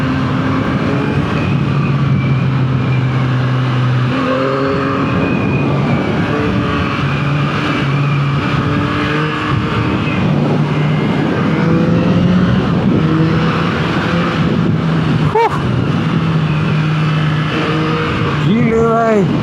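A 2024 Yamaha MT-09 V4 motorcycle engine revs repeatedly while riding, rising and dropping through gears with a loud, continuous drone, accompanied by wind noise and a rider's excited voice.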